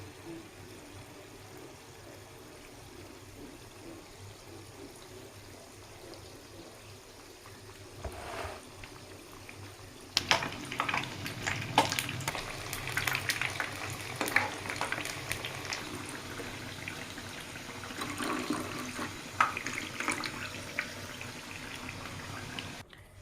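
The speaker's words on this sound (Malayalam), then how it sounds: "തിളയ്ക്കുന്ന എണ്ണയിലേക്ക് ഇടാം." Batter-dipped banana fritters (pazham pori) dropped into boiling oil, thattukada style: a faint bubbling at first, then a louder, dense crackling sizzle from about the midpoint that continues to the end.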